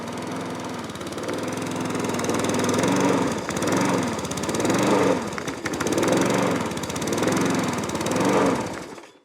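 A small walk-behind lawnmower engine runs roughly and unevenly up close, loud throughout, its chugging note surging and sagging in repeated waves as if misfiring and struggling to hold speed.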